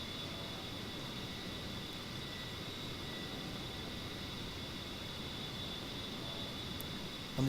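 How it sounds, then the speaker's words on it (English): A-10 aircraft engine in flight gives a constant, even roar and whine heard from inside the cockpit, steady and unbroken throughout, with no voices. "I'm just trying to get the airplane kind of configured to land here."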